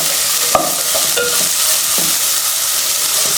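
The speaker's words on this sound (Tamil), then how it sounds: "இதெல்லாம் சேர்த்துட்டு நல்லா 2 நிமிஷத்துக்கு வதக்கி எடுத்துக்கலாம்." Onion, carrot, beans and green peas sautéing in a pan, a steady broadband sizzle with a few clinking stirs of a spoon against the pan, close and continuous.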